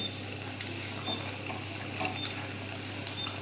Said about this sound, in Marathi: वडे असे पलटी करून घेऊया